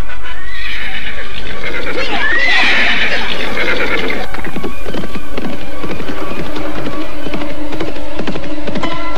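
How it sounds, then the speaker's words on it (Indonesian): Three horses loudly neigh and whinny close by, then hooves clip-clop in a steady rhythm as they set off at a run. "Wiyatsi, Riswara dan Kiwirya segera saja menyambar 3 ekor kuda yang ditambatkan tak jauh dari mereka."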